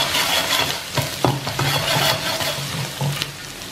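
Chopped garlic and ginger sauté in hot oil for a Chicken Manchurian, crackling with a close, loud sizzle while a utensil scrapes and knocks against the pan in irregular strokes.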